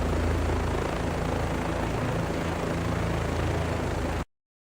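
A Chinook helicopter in the DCS flight simulator roars with a dense, steady rotor and turbine drone, loud and unbroken for about four seconds before cutting abruptly to silence.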